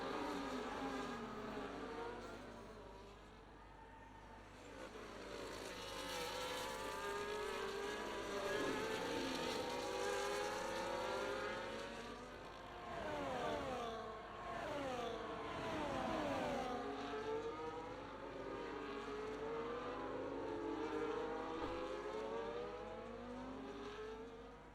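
Race car engines scream past in a Bahrain racing game, a continuous high whine rising and falling with gear changes and pass-bys, loud and sustained, with no voice over it.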